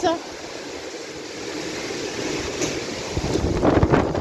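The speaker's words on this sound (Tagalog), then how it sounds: "Ngayon, ang laki-laki ng mga alon." Strong typhoon gusts roar against the microphone while heavy sea waves surge and crash, growing louder and rougher toward the end, in the Philippines during Typhoon Aghon.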